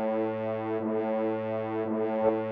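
Two identical sustained tones heard one after another, then sounded together as a unison, a steady rich buzzy timbre held close and even with no voices.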